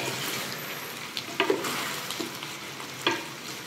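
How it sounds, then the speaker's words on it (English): Prawns being dumped into a pan and stirred for Cantonese sweet and sour prawns, with a steady sizzle and a few sharp utensil scrapes and clinks spaced through the mix. "Now we're dumping our prawns and we're just gonna mix this up."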